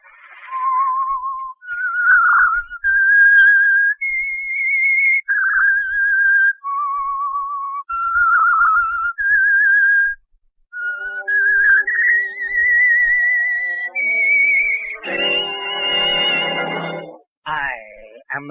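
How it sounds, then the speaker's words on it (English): A clear whistled tune, the signal for the radio program The Whistler, rises and falls in steady sustained notes, loud and close, ending with a brief burst of orchestral music. "That whistle is your signal for the Signal Oil program"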